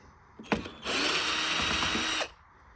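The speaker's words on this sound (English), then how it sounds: "I'm just going to go ahead and use a power drill" A power drill whirs steadily for about a second and a half, backing screws out of an arcade and pinball cabinet, preceded by a few short clicks and blips.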